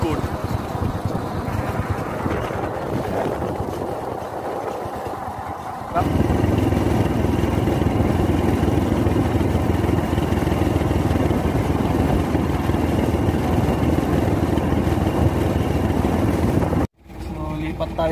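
A borrowed motorcycle's engine runs with a steady mid-pitched drone that jumps louder partway through and holds, cutting off briefly near the end, with people talking around it.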